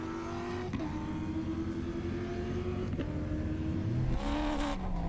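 A former Sébastien Loeb Peugeot rally car drives a desert rally stage in Morocco, its engine droning steadily throughout with gear changes and revs rising and falling, loud and close with no talk.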